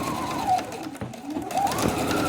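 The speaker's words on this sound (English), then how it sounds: "I'm going to be sewing about 1/4 of an inch, and don't forget to backstitch." A sewing machine stitches a quarter-inch seam in fabric for a simple gown, running in two close, steady bursts with a brief pause between them.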